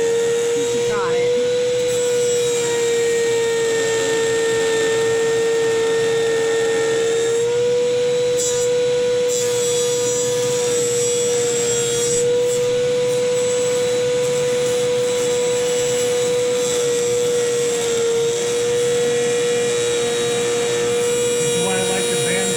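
A bandsaw cuts a pine headstock template, giving a loud continuous motor whine with a steady high tone that shifts slightly as the blade works through the wood, with brief rasping bursts near the start.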